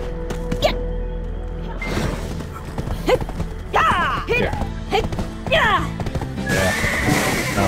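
A horse neighs and whinnies in the video game Black Desert Online, several loud rising calls near at hand amid hoof clatter and game noise, with voices talking in between.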